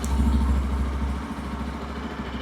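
A 2025 Yezdi Adventure motorcycle engine idles at its launch event with a low, steady throb, then the rumble drops away partway through, leaving quieter mechanical noise.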